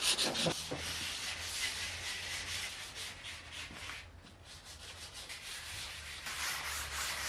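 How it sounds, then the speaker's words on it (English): Steady rubbing and scraping of sandpaper against a concrete countertop edge, close up, in continuous back-and-forth hand-sanding strokes with no talking. "what I want to do is just a little bit of hand sanding to make it softer"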